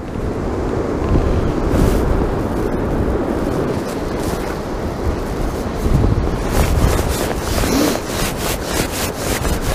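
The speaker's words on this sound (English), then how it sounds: "Oh, I hate fishing in the wind." Strong outdoor wind buffets the microphone during pole fishing, producing a constant, loud low rumble and rush with gusty swells and occasional sharper crackles.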